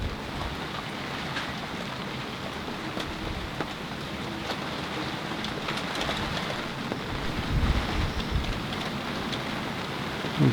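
Gale-force wind gusts and rain buffet a sailboat standing on land, a steady broadband roar with rising surges, while the hull and rigging vibrate and wobble; no one speaks.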